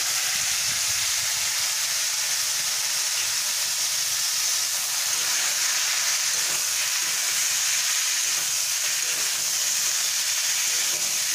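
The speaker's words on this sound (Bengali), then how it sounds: "আলু আর ফুলকপিটা ভাজার জন্য তেল দিয়ে দিলাম" Potato and cauliflower pieces frying in hot oil give a loud, continuous sizzle and hiss that stays steady throughout, close up, with no talking.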